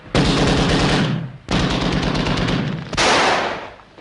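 A machine gun fires three rapid, loud bursts, each a dense rattle lasting about a second and a half, separated by brief gaps.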